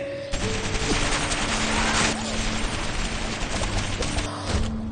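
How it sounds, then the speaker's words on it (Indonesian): Soldiers in a monster film fire a sustained barrage of gunshots, dense rapid bursts of fire layered over a low movie soundtrack tone, loud and continuous through the short span. "para pasukan pun langsung menghujani tembakan hingga monster itu tersungkur"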